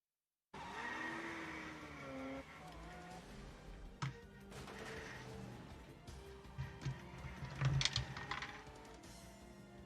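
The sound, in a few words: car chase with skidding tires, played reel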